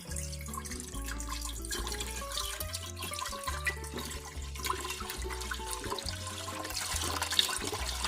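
Coconut water pours into a cooking pot for gudeg made from canned jackfruit, a continuous close gurgling splash with bubbling and dripping, no speech.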